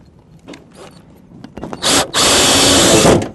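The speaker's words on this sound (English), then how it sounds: "Now we'll just install our screws." A power drill drives screws while a direct vent gas fireplace is installed, with a few short taps and handling noises first, then a loud close whirring run lasting over a second.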